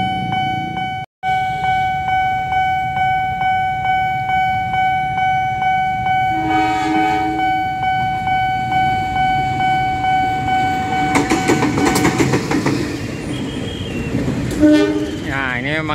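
A busy Jakarta-area rail crossing near Pondok Jati station: a crossing bell dings in a steady repeating rhythm, a train horn sounds, and a passing train rumbles and screeches loudly close by.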